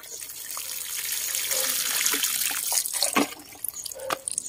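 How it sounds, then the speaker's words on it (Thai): Homemade liquid plant fertilizer poured onto potted plants, a steady splashing, trickling stream with a few drips and spatters toward the end. "ตามด้วย สูตรน้ำที่เราทำเมื่อสักครู่ค่ะ ลดเลย"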